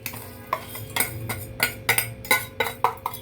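A spoon clinks and scrapes against a pot while jaggery is stirred into hot cooked raw mango, making a quick series of light, rhythmic metallic taps, close and clear with no talking.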